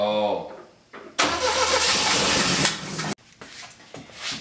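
Saab Sonett engine cranking and catching on starting fluid after sitting for 20 years: a voice is heard briefly first, then a sudden loud, rough burst of engine noise for about two seconds that cuts off abruptly, followed by quieter sounds.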